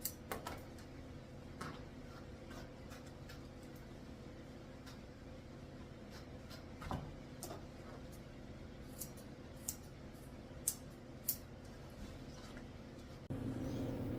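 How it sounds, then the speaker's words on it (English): Soft, scattered snips of straight scissors trimming a Shih Tzu's fur under the tail, irregular and quiet over a low steady hum, a few clicks slightly louder than the rest. "I'm using my straight scissors to trim up under her tail."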